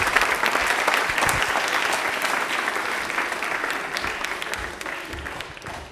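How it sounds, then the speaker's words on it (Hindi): Studio audience applauding a contestant on a televised Indian Railways quiz show, sustained loud clapping from a crowd that slowly tapers off. "तालियां हो जाए तन्वी के लिए जोरदार वाली"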